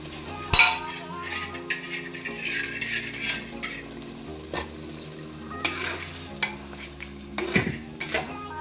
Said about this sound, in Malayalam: അപ്പോൾ ഞാൻ ആ ബാലൻസ് ഞണ്ടുകൾ അതിനകത്തേക്ക് ഇട്ട് കൊടുക്കുന്നുണ്ട് കേട്ടോ